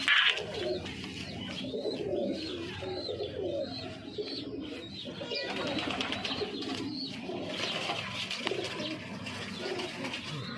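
Pigeons cooing steadily in a loft, soft repeated coos layered over bird chatter and background noise, with no talk heard.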